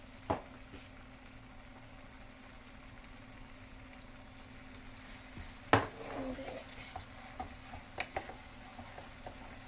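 Ful being stirred with garlic cloves and black pepper in a sizzling pan: a steady low frying hiss with a few sharp utensil clacks and scrapes near the middle and end, no talking.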